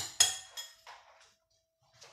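A utensil clinks and knocks against a bowl while biscuit dough with margarine is mixed, a few sharp separate taps then a short quiet pause.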